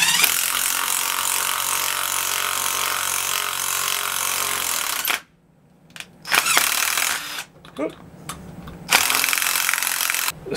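A hand tool chases threads in an existing tapped hole, a loud, close, continuous grinding rasp for several seconds, then silence broken by a few short scraping and ratcheting bursts.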